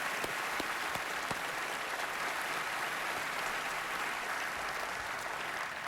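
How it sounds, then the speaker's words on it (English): Large audience at the NFL Honors awards show applauding in a continuous, even roar of clapping that fills the hall at constant level, heard from some distance with no voices on top. "Give them a round of applause."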